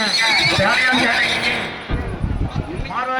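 A horse at the Anthiyur chariot festival horse show gives a loud, close whinny, followed by lower snorting and stamping sounds, while an announcer speaks over a loudspeaker.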